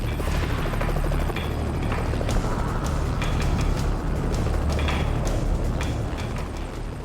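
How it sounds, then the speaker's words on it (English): A rescue helicopter hovers near a cliff ridge, its rotor pounding in a loud, fast, continuous chop with heavy rumbling wash and gusty buffeting, close and unbroken throughout. "Time after time, the helicopter is forced back."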